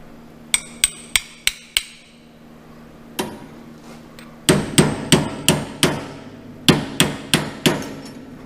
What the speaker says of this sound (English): I'll tap this side on